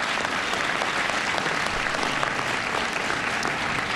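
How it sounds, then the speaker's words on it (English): Dense, steady clapping from an audience at a presidential bill signing for VA reform, loud and sustained for the full length, with no speech over it. "Give them a big round of applause."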